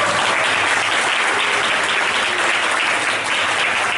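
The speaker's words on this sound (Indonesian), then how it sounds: "Tepuk tangan dulu." Steady, dense applause from a class of students in an Indonesian classroom, sustained loud clapping that fills the whole stretch without pause.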